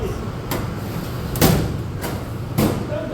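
A commercial dishwashing machine door being shut at work, giving three or four loud thudding clunks with sliding metallic scrapes, close by, with a busy kitchen hum underneath.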